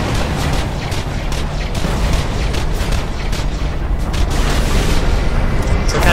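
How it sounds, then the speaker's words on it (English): A boss firing mortars in the Borderlands 2 fight against BNK-3R, with steady booming blasts and gunfire layered into a thick, loud, continuous rumble. "While he'll be shooting mortars all around the place."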